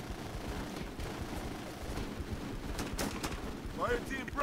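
Gunfire from the video game Full Spectrum Warrior, bursts of rapid shots over a busy battle din, with a short chirping electronic sound near the end.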